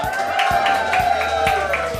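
An audience at a live singles-event show claps and cheers together, producing a loud, crowded burst of applause with whoops over a steady pulsing beat.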